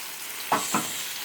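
Chicken cooking slowly in a pan over a low flame gives a faint steady sizzle, broken by two quick scraping stirs.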